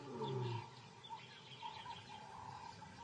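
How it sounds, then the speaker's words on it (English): A distant white lion roar carries from about two miles away, a faint low rumbling call at the start that fades into quiet outdoor ambience with soft bird chirps. "Although they are 2 miles away, Zyra can hear her brother's roar to identify their location"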